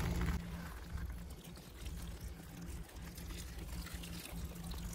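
Water poured from a container onto black pine bonsai pots on a table near a pool, a steady, continuous splashing trickle over a low background hum, with no talking.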